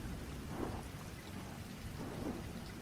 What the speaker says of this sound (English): Rain lashed against the theater windows, a relentless drumming